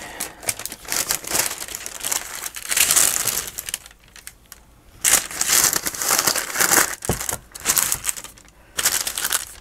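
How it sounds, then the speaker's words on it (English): Sheets of paper crinkle and crumple on a desk during a journal craft project, close and loud in repeated rustling bursts separated by brief quieter pauses. "And let's put another noisy paper down here."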